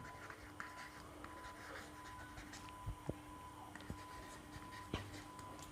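Faint scratchy strokes of writing on a board in a classroom lesson, with soft taps and short scrapes scattered through a quiet background.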